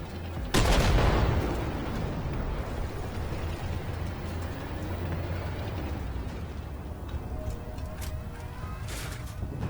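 T-72 Ural tank cannon firing in the video game Armored Warfare: one loud, sharp blast near the start with a booming low rumble that fades into steady engine and battle noise.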